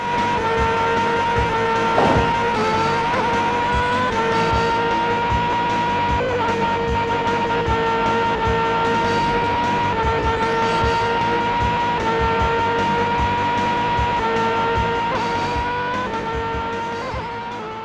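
Racing car in the arcade game Drift Out roars continuously through corners, its engine droning at a steady high pitch with brief tire squeals, loud and alone throughout.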